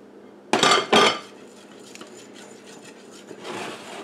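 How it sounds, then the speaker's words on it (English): Chocolate pudding mixture whisked into a metal pan: two loud, close metallic clanks at first, then lighter scraping and tapping of the whisk against the pan. "Now I'm going to whisk this into that pan"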